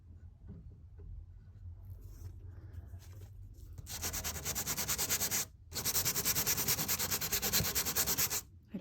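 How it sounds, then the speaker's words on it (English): Medium-grit Surf Prep Rad Pad sanding excess paint off a wooden French Provincial dresser, a close, loud, steady rasping hiss in two long strokes with a brief pause between, after a quieter stretch of low rubbing. "Taking a Surf Prep Rad Pad in medium grit to get rid of"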